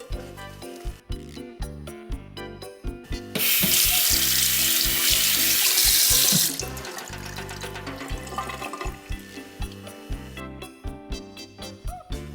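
A nannygai fish is rinsed under a running kitchen tap, bursts of water splashing with clattering handling noises, then a few seconds of steady loud gushing flow before the splashing resumes.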